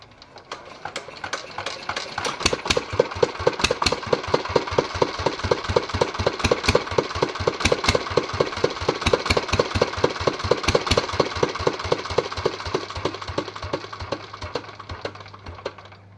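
A loud Petter A1 2HP stationary engine runs steadily on its own, with rapid regular firing pulses and a mechanical clatter holding an even rhythm throughout.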